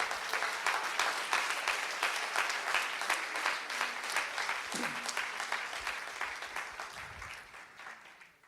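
A church congregation applauding together, dense rhythmic clapping that holds steady for several seconds before tapering off at the end, fairly close and full.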